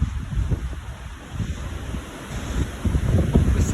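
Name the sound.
strong wind before a tornado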